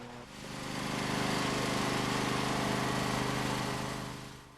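A John Deere L100 riding lawn tractor engine runs steadily as the mower backs up, a loud, continuous mid-pitched drone that swells in and fades slightly at the end.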